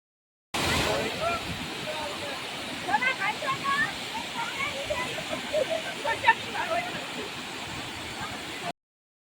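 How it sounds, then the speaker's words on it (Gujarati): A waterfall roars as a steady broadband rush of falling water, fairly close, with splashing surges partway through and voices faintly mixed in. "ચેક કરો ધોધ બાકી હવે આવે છે ને નેક્સ્ટ લેવલ"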